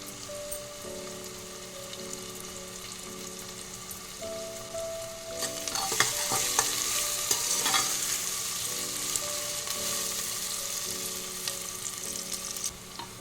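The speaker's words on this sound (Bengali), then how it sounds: "পেঁয়াজটা ভালো করে ভেজে নিতে হবে।" Onions frying in a pan with kasuri methi, a steady close sizzle with stirring scrapes that grows louder and brighter midway and holds to the end, alongside a faint low hum.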